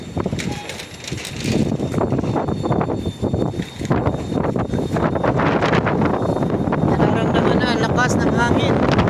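Strong storm wind from Storm Eowyn buffets the microphone in continuous loud gusts, with rattling and flapping debris mixed in and a person talking over it throughout.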